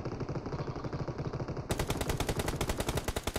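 Groza assault rifle firing in BGMI, rapid automatic bursts rattling loud and close, growing denser and harsher partway through with no pauses.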